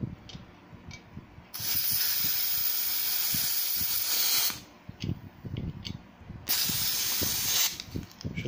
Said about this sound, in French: Je sais vraiment pas remplir un chargeur en gaz, moi.